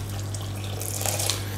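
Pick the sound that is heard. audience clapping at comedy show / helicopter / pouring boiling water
pouring boiling water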